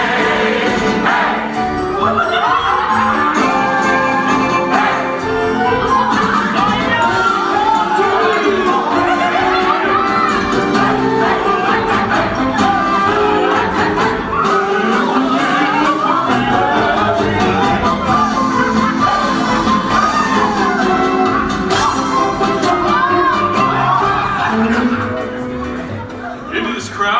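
A festive crowd in an animated film's street scene about topsy-turvy day cheers, shouts and chatters with children's voices mixed in, loud and sustained beneath singing voices for nearly half a minute before easing at the end.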